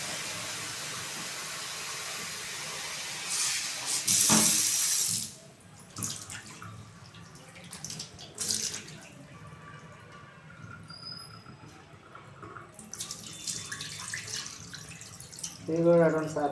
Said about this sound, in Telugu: ఇప్పుడు పసుపు వేసి కడుగుతున్నా